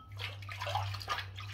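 Water runs steadily from a tap as slick shaving soap is rinsed off hands, a soft continuous splashing and trickling over a low hum, close and fairly quiet.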